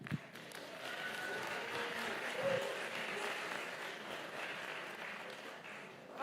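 Audience applause from a crowd at a human trafficking summit hosted by CPAC, welcoming a panel of speakers; steady, dense clapping that holds for several seconds at moderate loudness, with faint crowd noise underneath.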